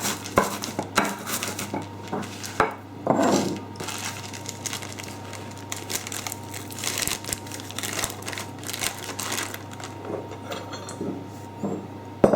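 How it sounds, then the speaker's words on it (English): Quavers crisps are crushed into powder in a container, giving a run of crackly, clattering crunches and taps that are fairly close and uneven in rhythm, with no speech. "what you're aiming for is to crush those Quavers in there until they're powder"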